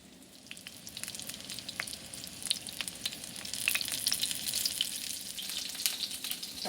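Polynesian meatballs fry in a pan, giving a close, steady sizzle with crackling pops that builds and grows louder as the meatballs are turned, with no voices.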